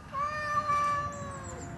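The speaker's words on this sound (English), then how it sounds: "More cats having a face-off." Cats in a face-off let out a drawn-out, wavering yowl that holds steady and then tapers off, fairly close over a low background rumble, with no voices.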